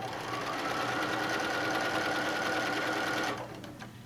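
A sewing machine stitches a tote bag panel with a fast, even, buzzing run of stitches for about three seconds, then stops, leaving faint clicks.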